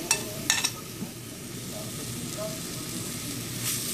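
Chopped onions with green chili hit a quarter cup of hot vegetable oil in a pan, giving a steady close sizzle with a few sharp clinks and scrapes of stirring early on.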